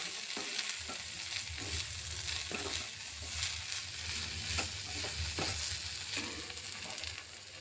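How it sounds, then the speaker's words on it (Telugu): Okra fry sizzles in a pan just after coriander powder goes in, with a continuous loud frying hiss and a few soft scraping stirs of a spoon through the pieces, close and without voices. "కొంచెం ధనియాల పొడి, వేసి ఒకసారి కలుపుకొని"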